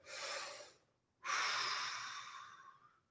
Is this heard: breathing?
yes